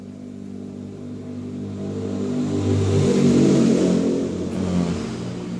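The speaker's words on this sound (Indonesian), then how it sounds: "Agak berisik banyak motor ya" Motorcycles pass noisily outside, a rising and falling engine drone that swells to a peak midway and then fades back, heard alone and moderately near.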